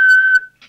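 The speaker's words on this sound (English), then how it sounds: "Again, we'll just check the whistle with the whistle test." Steady whistle tone into the microphone of an Albrecht AE6110 CB radio during a transmit test, one clear sustained pitch under a second that stops abruptly, with a short faint blip after.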